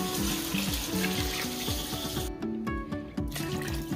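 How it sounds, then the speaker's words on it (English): Six cups of water poured into a cooking pot holding taco seasoning, Rotel and tomato sauce, a steady splashing stream with bubbly gurgles, briefly easing partway through before resuming, close and moderately loud. "That is 6 cups of water."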